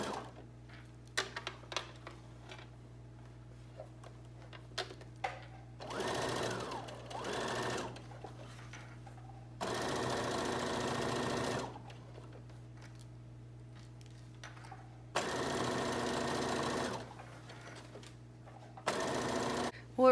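A sewing machine top-stitches the hem of a pant leg about an eighth of an inch from the edge, running in several short, loud bursts between quiet pauses with small clicks and handling noises.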